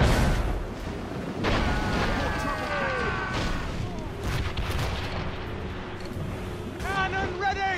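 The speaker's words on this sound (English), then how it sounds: "Cannon ready! Fire!" Ship cannons fire in a naval battle in Assassin's Creed Rogue, heavy booms recurring through the clip amid battle noise, with shouted voices in between.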